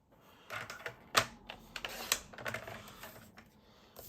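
Cardstock is cut down to size for a matte layer with a paper trimmer: a run of close, clicking slides and sharp snips, irregular and fairly quiet, with no talking.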